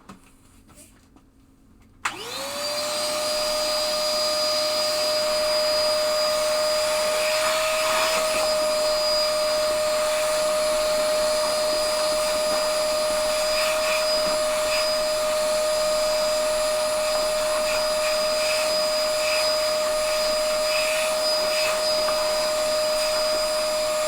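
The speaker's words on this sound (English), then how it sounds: "That's my new vacuum. I love it." A new vacuum cleaner switches on after a quiet start and runs with a steady, loud motor whine and airflow roar for over twenty seconds, unbroken and alone.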